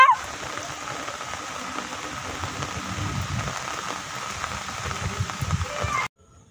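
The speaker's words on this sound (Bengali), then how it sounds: "প্রচুর বৃষ্টি হচ্ছে।" Heavy rain pours down steadily during an evening storm, a dense, even hiss that holds for about six seconds and then cuts off abruptly.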